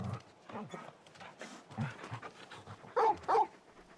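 A big dog pants and snuffles in the video game Final Fantasy XVI, with rapid breathy sounds mixed into game audio and a couple of louder bursts near the end.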